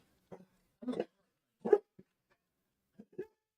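Pet dog indoors giving a few short, separate barks and whimpering yelps spread across a few seconds, fairly quiet with gaps of silence between them.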